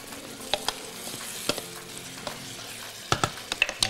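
Chicken liver and meat frying in a pan, a steady soft sizzle with occasional stirring clinks and scrapes, close and moderately quiet, no voices.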